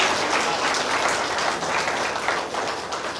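A church congregation claps in thanks during a Hindi sermon, a thick, continuous wash of applause that stays loud and even throughout with almost no talk.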